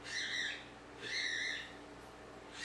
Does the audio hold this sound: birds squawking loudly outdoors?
yes